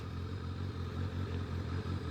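A 1997 Kawasaki ZRX1100 motorcycle engine runs steadily while being ridden, with a loud, continuous low throbbing pulse and a faint mechanical clatter.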